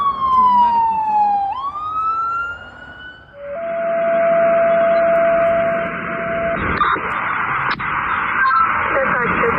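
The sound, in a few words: ambulance siren responding to a medical call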